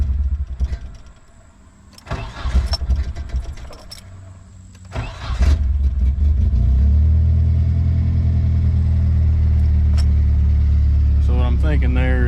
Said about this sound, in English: That's just cranking the car.